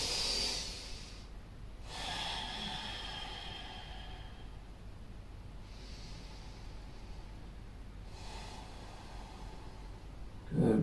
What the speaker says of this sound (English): breathing deep into the lungs, feeling the ribs expand here as well